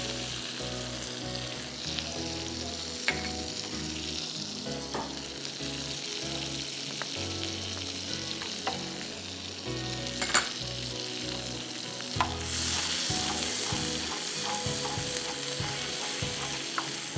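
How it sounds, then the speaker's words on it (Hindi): Chopped garlic fries in a pan with a steady, close sizzle, broken by scattered sharp clicks and scrapes of a utensil; the hiss grows brighter and denser toward the end, and no one speaks. "थोड़ा सा गार्लिक को पकाएंगे, कच्चा कच्चा नहीं रहे"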